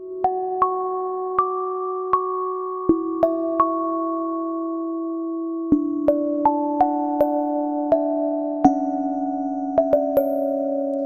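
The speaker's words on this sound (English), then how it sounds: "So this is just your bell sound, but you hear a lot of the reverb" Bright Korg King Korg Neo synth bell tones strike one after another in a slow melodic pattern, each ringing out into a long reverberant tail, clear and alone.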